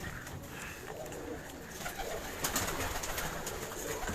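Many pigeons coo steadily inside a Karachi high-flyer loft, a dense overlapping murmur of soft throaty calls with light rustling throughout.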